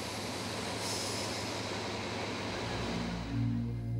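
The Palace on Wheels luxury train runs along an Indian railway in Rajasthan, giving a steady, loud rumble of wheels and carriages with low droning tones that swell near the end.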